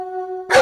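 A single sharp dog bark bursts out near and loud right after a sustained steady tone, ending the short moment.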